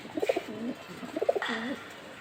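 Racing pigeons cooing close by, two short throaty bursts of soft bubbling coos separated by a brief pause, with no talk over them.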